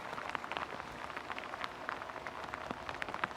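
Cold rain falls outdoors around a wood-fired BBQ smoker with a firebox, making a steady, dense patter of drops on nearby surfaces with scattered sharper taps, and no voices.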